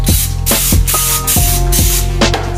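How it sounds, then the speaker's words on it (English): A spray bottle squirts cleaner onto kitchen cutting boards in about six quick, close, hissing bursts evenly spaced, clear and loud with no talk. "spray down my cutting boards because they're sitting up there behind the stove, so they get greasy too"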